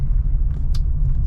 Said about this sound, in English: here we are on the road, taking the Montero for a test drive